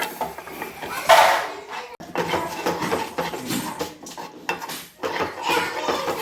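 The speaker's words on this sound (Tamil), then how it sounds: "இப்போ நான் வந்து டெய்ரி மில்க்கை வந்து போட்டுக்கிறேன்." Pieces of Dairy Milk chocolate dropped into a pot of lightly boiling milk, heard as close clattering and clinking of a utensil against the pot with scraping and stirring, no talking.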